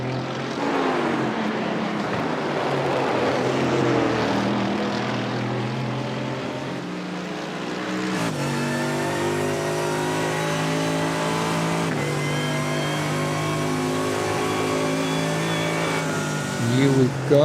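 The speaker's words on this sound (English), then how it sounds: "Adam Christodoulou in his Mercedes AMG GT3." Mercedes AMG GT3 race car in a digital Nürburgring endurance racing game, engine roaring loudly and continuously, pitch climbing and shifting through gears, with commentary talking over it.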